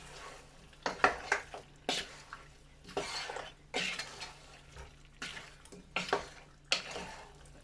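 Chicken cooking with butter, garlic and a little sugar is stirred in a pan, producing soft, wet scraping strokes in uneven bursts, close but quiet, with no talk.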